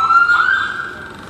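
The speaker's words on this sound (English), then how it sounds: "Ambulance." An ambulance siren wails past outside a Go Ahead route 75 bus travelling from Dún Laoghaire toward Deansgrange, a loud, sustained tone that is strongest at the start and slowly fades as it moves away.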